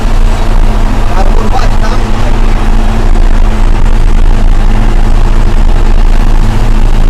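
A KhTZ tractor engine runs loud and close with a steady low rumble that never lets up, while someone talks over it.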